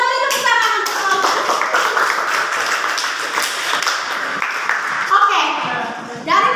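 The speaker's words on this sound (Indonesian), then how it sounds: "Kita beri tepuk tangan untuk kelompok." A classroom of students claps for a group after their presentation, producing a sustained, dense patter of hands that swells and then tapers. Voices speak at the start and again near the end.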